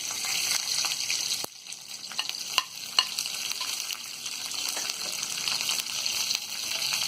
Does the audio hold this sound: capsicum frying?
yes